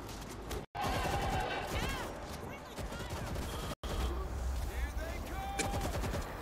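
Bursts of rapid automatic gunfire cut down zombies in World War Z, loud clattering volleys layered with shell and ricochet sounds and chaotic game effects, with two abrupt silent gaps breaking the barrage.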